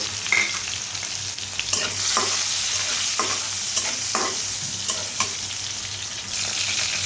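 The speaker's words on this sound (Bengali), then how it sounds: "এখন আমি কড়াইয়ের মধ্যে পেঁয়াজটা ঢেলে দিচ্ছি" Onions fry in hot oil in a wok, a steady bright sizzle punctuated by repeated scraping knocks of stirring, close and loud with no talking.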